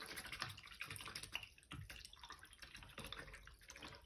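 A watercolor paintbrush is rinsed in water, giving faint close swishing and dripping for a few seconds with no talk.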